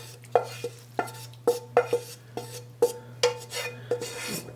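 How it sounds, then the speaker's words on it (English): A spoon works an apple mixture through a pan sauce, scraping in a steady, close rhythm of about ten strokes against the pan over a low constant hum, with no voice. "Just give that a bit of a stir in."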